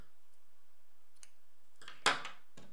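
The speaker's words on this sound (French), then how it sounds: "là on va pouvoir couper le fil" Scissors snip through crochet yarn in two or three quiet, close clicks after near silence.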